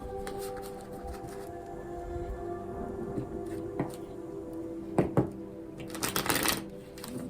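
A deck of oracle cards is shuffled up close, with soft papery riffles and quick flutters that build into brief louder bursts near the end, with no talking over them.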